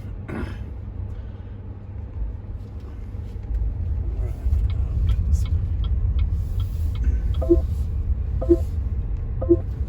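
A BYD Seal electric car rolls over speed humps, giving a steady low road rumble with soft thumps and faint clicks as it crosses them, with no speech in the clip.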